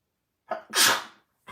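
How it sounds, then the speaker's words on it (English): One loud, close sneeze: a quick sharp inhale followed by a forceful burst, then silence. "I made myself sneeze by standing on my head"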